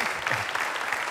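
Applause from a live audience for a viola player in a band, a steady wash of clapping throughout the short stretch with a faint voice underneath.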